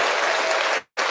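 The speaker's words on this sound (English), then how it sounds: "Let's give another round of applause." A radio show's studio audience gives a brief burst of applause, a dense, even patter of clapping that cuts off sharply, then resumes.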